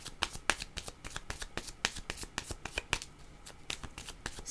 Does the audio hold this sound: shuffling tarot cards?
yes